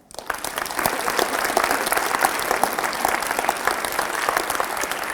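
A round of applause from a group of high school leadership students, dense steady clapping rising quickly after a brief quiet start and continuing evenly to the end.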